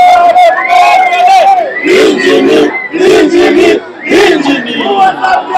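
At a cue sports match, a Zambian crowd roars and cheers close and loud in repeated surging bursts of massed shouting and whooping voices.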